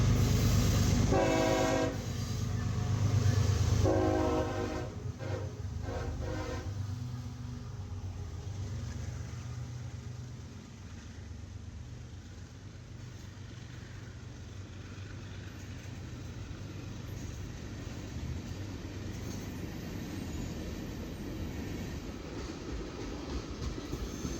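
A CSX freight train of empty black ethanol tank cars rumbles close by, with loud horn blasts near the start, then a long steady roll of wheels on rails as the cars pass.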